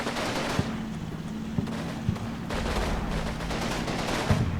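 Gunfire in the World War II tactics game Combat Mission: Fortress Italy, a continuous rattle of small-arms shots with a few sharper reports standing out, dense and steady throughout, no talk.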